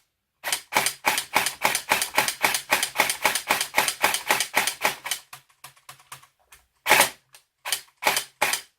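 An AA L85 airsoft rifle rattling off rapid full-auto bursts, loud and close, with a long string of shots that stutters, then shorter bursts after a gap. No voices.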